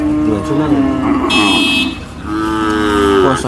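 A bull moos loudly and close by at a cattle market in Sangola, two drawn-out bellows separated by a short pause.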